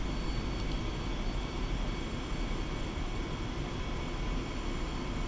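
An Su-25 jet taxis toward the runway in DCS World, its engines a steady, close, unbroken whine and roar holding at an even level with no change in pitch.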